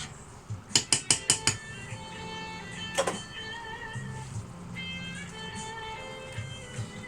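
A creamy garlic sauce with English mustard stirred in a pan, opening with a quick run of five sharp metal clinks, then softer scraping and a scattered tap over a steady background hum.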